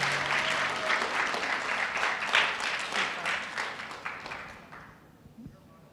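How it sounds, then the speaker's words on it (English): Audience applause at a 2023 opening ceremony in Trinidad, a dense crowd clapping steadily for several seconds before thinning out and fading toward the end, with faint voices underneath. "give yourselves a round of applause"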